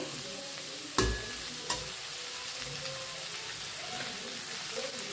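Cluster beans are stirred as they fry in a pan, giving a steady close sizzle broken by two sharp knocks of the spoon against the pan early on.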